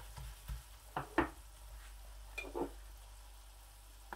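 Spices stirred in hot ghee for a kadahi kabab, with short sizzling bursts and spoon scrapes coming in a few separate pulses over a low steady hiss, close and fairly soft, with no talking.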